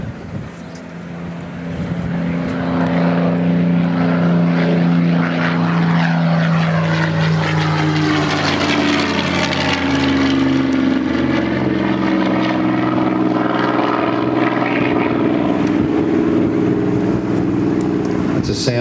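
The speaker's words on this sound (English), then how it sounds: "It's a sound that once heard is never ever forgotten." Supermarine Spitfire Mk VIII fighter with its Rolls-Royce piston engine flying past at an air display, a loud, sustained propeller drone that swells and shifts in pitch as it passes, with a voice talking over it.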